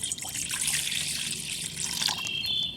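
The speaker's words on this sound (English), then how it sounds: "There's some water, buddy." Water poured out for a dog at a campsite, a steady splashing trickle lasting a few seconds, close and fairly loud with a thin dribble toward the end.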